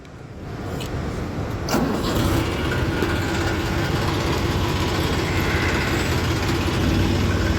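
A Mahindra 475 tractor hauling a load of sugarcane: a steady, loud engine drone with rumbling low end and broadband road noise, continuous and close throughout, with no speech.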